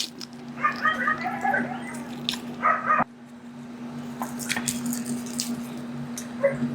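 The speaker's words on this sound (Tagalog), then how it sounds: "pasensya na sa mga aso guys na naririnig niyo yung mga asong ingay." Several dogs barking and yipping nearby in short irregular bursts, loudest in the first few seconds, over a steady background hum.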